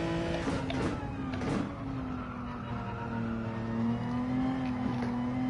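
A Genesis car in Gran Turismo 7, driven from the cockpit view with traction control off, holds a steady engine drone with slight pitch shifts and faint tire noise, moderately loud and continuous.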